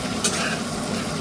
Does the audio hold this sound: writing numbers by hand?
no